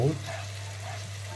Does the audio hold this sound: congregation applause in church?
no